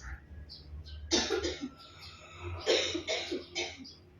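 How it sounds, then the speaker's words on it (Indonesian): A pair of coughing bursts, close and fairly loud, with short rough hacks grouped together and a brief gap between them. "Maaf, itu lagi batuk."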